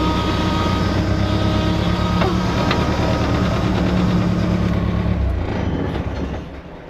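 A Ford Festiva fitted with an Ecoboost engine and a brand new clutch runs steadily with a loud, even drone and rhythmic pulsing, then is shut off near the end as the sound fades away.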